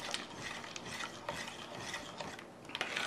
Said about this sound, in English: So I just want to stir the ice until it's completely melted